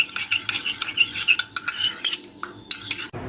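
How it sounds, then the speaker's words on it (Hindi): A spoon stirs custard powder into cold milk, giving quick, repeated scraping clinks against the side of a vessel in a steady close rhythm, with a short knock at the end. "जो ठंडा दूध है उसमें थोड़ा सा कस्टर्ड मिक्स कर लेते हैं"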